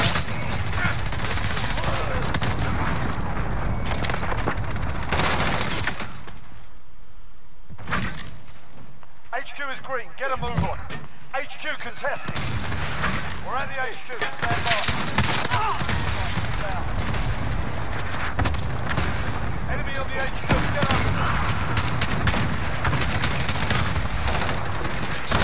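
Sustained video-game fire from a Martian rifle, loud dense bursts and booming impacts filling most of the stretch, with a short lull in the middle and a player talking over the action.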